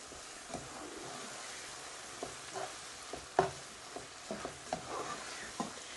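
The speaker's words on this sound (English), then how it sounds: "And then just gently mix this in." Biryani masala being gently stirred into mashed tomatoes and softened onions in a pan for kofta biryani, with soft scraping spoon strokes and light irregular taps over a quiet, faint sizzle.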